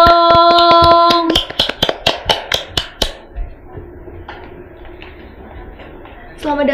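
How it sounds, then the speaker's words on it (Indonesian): An audience claps for an arriving guest on an Indonesian talk show, a burst of dense applause that breaks into several sharp rhythmic claps, alongside a sustained musical tone and some talk. "Beri tepuk tangannya"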